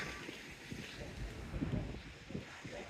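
Wind buffeting an unshielded microphone on a sunny seafront walk, a steady low rumble and roar with gusty swells, faint and continuous, with no one speaking.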